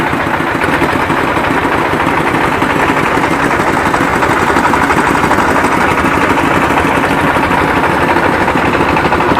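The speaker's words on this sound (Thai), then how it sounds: "เรือก็มาถึงบนฝั่ง" A boat engine runs loudly and steadily at close range as the boat reaches the riverbank near the Myanmar border, a constant rumbling drone with a rapid chugging pulse and no talk over it.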